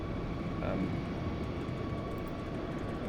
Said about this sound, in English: there's all the noises of the AI aircraft